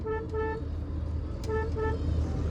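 A Kia Sonet's horn sounds in several short toots in a row, close and loud over a steady low engine hum and roadside traffic.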